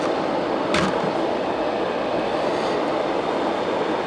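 An analog white noise sleep machine blows a steady, loud broadband hiss of air, its output turned up, constant and unbroken throughout.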